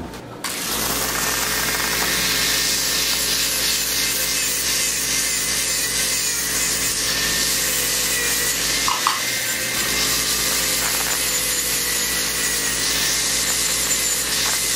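A small rotary drill grinds down a very thick toenail, a steady loud high-pitched whine with gritty abrasive texture held continuously for the whole stretch after a brief start, close up.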